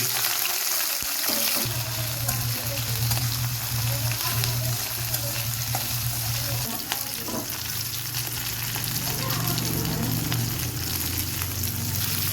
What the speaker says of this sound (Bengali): একটু তেল দিয়ে দিচ্ছি দিতেছি পেঁয়াজ কুচি কাঁচামরিচ রসুন